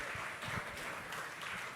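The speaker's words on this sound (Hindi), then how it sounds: "भाई तालियां बजा दीजिए यार" An audience at the launch event for a Colours TV show, Neerja Ek Pehchaan, applauds with brisk, dense clapping that stays steady and moderately loud for a short burst.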